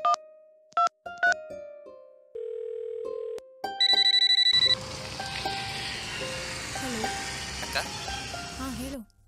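A phone call in a Kannada action thriller film: a series of electronic phone tones and beeps, then a steady ringing tone that continues under dramatic background music.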